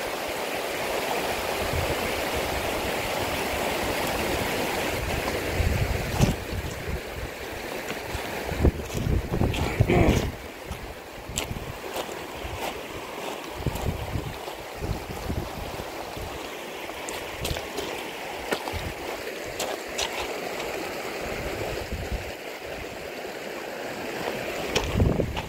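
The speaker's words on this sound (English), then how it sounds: "This outflow of this creek." Rushing water from a creek outflow pours steadily with a broad churning roar, mixed with gusts and occasional bumps and clatter close to the microphone.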